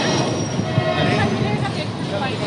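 A train at a railway station platform in Durg, with a loud, close rumble of rolling wagons and faint wheel squeal running steadily throughout.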